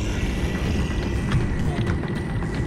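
Prisoners' footsteps patter quickly through Monstrum 2, a steady, muffled run under a dull background rumble.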